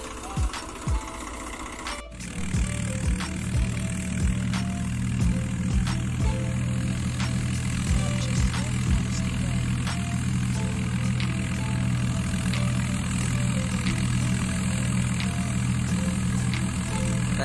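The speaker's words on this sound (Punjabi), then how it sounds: "ਲੱਗੇ ਜੀ ਤੂੜੀ ਬਣਾਉਣ ਰੀਪਰ ਨਾਲ ਅੰਬੇ ਬਾਈ ਦਾ ਰੀਪਰ ਆ ਚਾਲੂ ਕਰਨ ਲੱਗਿਆ" A tractor-driven straw reaper at a Punjabi wheat harvest starts up after a brief moment, then its engine settles into a steady, droning run with faint repetitive mechanical ticking, close and continuous.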